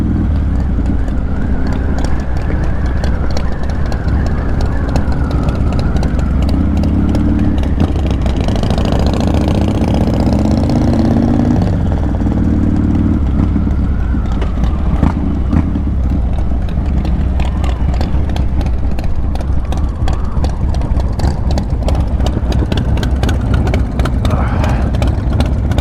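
A loud, steady engine idle from a motorcycle with a performance camshaft, heard at a bike blessing rally among many other bikes, with a lumpy pulsing rhythm, wind buffeting and crowd chatter underneath.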